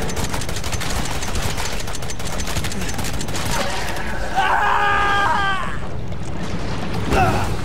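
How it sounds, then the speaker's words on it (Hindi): Rapid machine gun fire in Resident Evil 7, a loud continuous burst of shots under someone talking, followed by screaming and frantic game sounds near the end. "मशीन गन उठा ले चचा"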